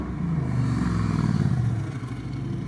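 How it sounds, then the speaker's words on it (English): A motorcycle passes close by outdoors, a loud rising engine rumble that swells over about two seconds and then eases off as it moves away. "so you're hearing everything like the motorcycle"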